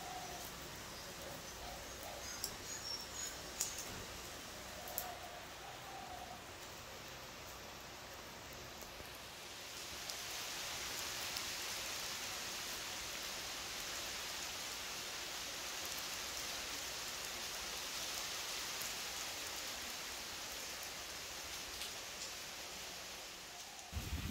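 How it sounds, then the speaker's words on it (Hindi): Heavy rain falls steadily outdoors, a dense, continuous hiss that grows fuller partway through, with faint bird calls early on. "जबकि जोरदार बारिश हो रही है"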